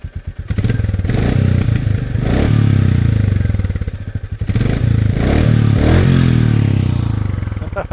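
A Royal Enfield Meteor 350 motorcycle engine is blipped with the throttle up close. It gives a loud, thumping single-cylinder idle that swells into repeated revs and then settles back, with mechanical clatter underneath.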